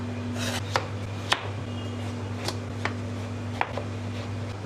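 Ash gourd being cut for vegetable labra, with a series of crisp knife chops spaced irregularly over a steady low electrical hum.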